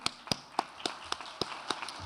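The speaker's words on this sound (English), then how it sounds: "please, let's applaud them" Sparse, sharp claps from a small audience at a Grade 9-12 awards ceremony, cheering on departing seniors, about eight distinct slaps at an uneven pace, fairly close.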